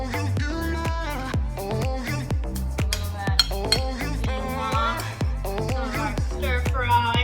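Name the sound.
dishes and cutlery clinking while plating beef stir fry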